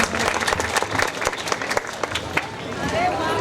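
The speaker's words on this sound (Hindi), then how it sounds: "आप तालियों के साथ अभिवादन करें" An audience at a Bhagwat Katha, a Shrimad Bhagavat religious gathering in a village, applauds with dense, continuous clapping. A crowd murmurs underneath, with occasional sharper claps standing out.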